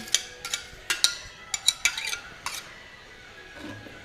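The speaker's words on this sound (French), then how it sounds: "Donc je remue un petit peu pour récupérer" A spoon stirs almond pulp in a container while homemade almond milk drains, making a string of close, light metallic clinks and scrapes that thin out into quiet.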